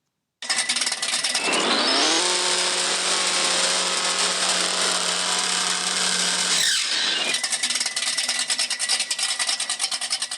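A car in the racing game No Limit 2.0 revs through a pull: the engine climbs in pitch from a low start, holds a loud high whine, briefly cuts around the shift, then screams on steadily to the end.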